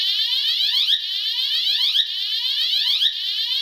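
A loud electronic fire alarm siren from a Tecnofire system sweeps upward over and over in a steady, rapid cycle, piercing and continuous throughout.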